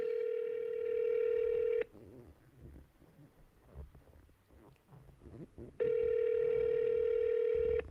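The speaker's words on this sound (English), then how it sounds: "I can call if he answers the phone." A telephone ringback tone plays while calling someone: a steady, loud electronic tone for about two seconds, a stretch of quiet room noise, then the same long tone again.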